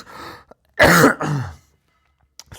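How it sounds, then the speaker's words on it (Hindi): Close, loud coughing and throat clearing in a few harsh bursts, then quiet. "सॉरी, खांसी आ रही है।"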